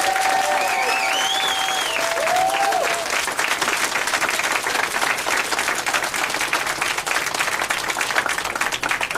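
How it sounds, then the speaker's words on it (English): A casino audience gives the trainers a long, sustained round of applause, dense steady clapping that fills the space throughout, with faint whistles or cheers near the start. "everybody just give the trainers a big round of applause"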